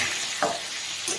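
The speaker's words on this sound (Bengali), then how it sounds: "এবার ওই তেলের মধ্যেই আলুগুলো ভেজে নেব।" Diced potatoes with turmeric and salt fry in hot oil for an egg potato curry, giving off a loud, steady sizzle broken by a brief scrape of stirring.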